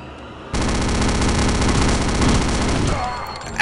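Rapid machine-gun fire rattles in a long, loud, continuous burst in Return to Castle Wolfenstein, starting abruptly and running for about two and a half seconds before tapering off, with a few sharp hits at the end.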